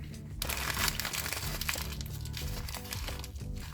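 Paper is crumpled and squeezed into a tight ball for the head of a papier-mâché ballerina, a continuous close crinkling and rustling with no speech.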